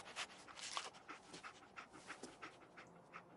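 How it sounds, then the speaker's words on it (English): Rhythmic, breathy dog panting from the Dogmeat companion in the Fallout 4 video game, quick steady huffs repeating close by at low volume. "Dog meat. Get the scent, boy."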